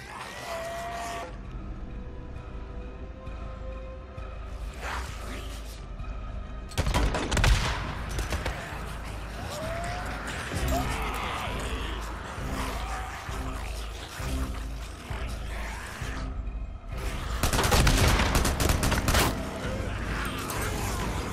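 Explosions and gunfire from the video game Days Gone: sustained rattling bursts of shots with heavy booming blasts around the middle and near the end, loud and continuous throughout.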